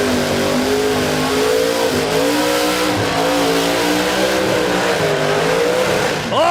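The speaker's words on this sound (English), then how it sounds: "More blown big block coming our way." A blown big-block Holden EH drag car tears down a no-prep strip at Warwick Dragway, its engine roaring loud and unbroken throughout, the pitch climbing and wavering as it accelerates hard.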